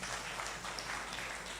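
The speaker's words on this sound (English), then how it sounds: "Applause for Sister Hash." A conference audience gives a soft, steady round of applause for a nun being welcomed to speak, the clapping even and fairly distant.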